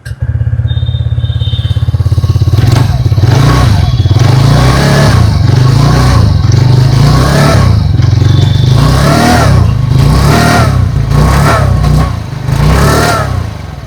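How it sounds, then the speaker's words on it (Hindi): A 2026 TVS Ntorq 125 scooter's exhaust note, loud and close, a steady mid-pitched engine hum pulsing through repeated rev rises and falls with a faint mechanical clatter, no talking. "पहले सुन लेते हैं एनटॉर्क 125 की एग्जॉस्ट नोट।"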